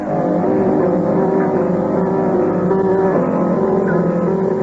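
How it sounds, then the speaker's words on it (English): Engines of a sailing ship running at full ahead in a nautical adventure drama, a loud, constant droning rumble with a slight tonal hum and no gaps throughout. "Full engines ahead."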